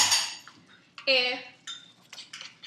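A utensil clinks and scrapes in a dish while eggs are stirred, a few sharp metallic taps and rings close by, spaced irregularly over a quiet background.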